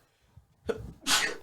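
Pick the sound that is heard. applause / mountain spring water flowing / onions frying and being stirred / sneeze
sneeze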